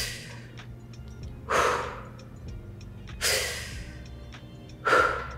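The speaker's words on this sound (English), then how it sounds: "we're gonna sweep our breath from feet to head fast, inhaling up, exhale down" Three loud, fast breaths in a guided mobility and meditation routine, each a sharp inhale swelling into an exhale, spaced about every second and a half against a quiet room.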